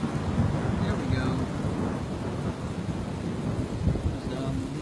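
Thunder rolls through an early morning thunderstorm with steady rain and some wind buffeting the microphone, a continuous loud low rumble with brief brighter bursts, no talk.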